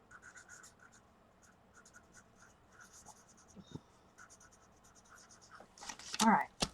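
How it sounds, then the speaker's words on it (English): Pen strokes scratch across paper in quick repeated bursts, soft and close, while a voice talks over them; a louder shuffle of paper comes near the end during art journal work. "let me write this down"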